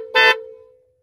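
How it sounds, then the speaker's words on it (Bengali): Horn on a new-model four-wheel power tiller with power steering gives one short, loud electric honk lasting about a fifth of a second. A low hum lingers and fades after it. "এখানে হর্ন দেওয়া আছে"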